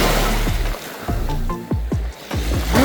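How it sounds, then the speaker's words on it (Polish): Feet wading into the Ionian Sea off Calabria, Italy, wearing flip-flops, with repeated close sloshing splashes in an uneven rhythm over a background wash of waves. "Wchodzę do morza."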